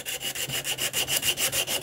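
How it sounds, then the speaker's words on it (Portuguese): Rhythmic back-and-forth sanding of wood with 80-grit sandpaper wrapped around a small tube, smoothing an inside curve left by a scroll saw, about a dozen even rasping strokes, close and loud with no voices. "Enrolei a lixa, ó. A lixa 80, lixa de ferro. Enrolei nesse caninho aqui. E a gente vai fazendo isso aqui"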